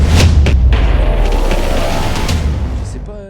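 A stream transition sound effect plays as a loud, booming whoosh with rumbling low end and a few sharp hits. It swells and then slowly fades out.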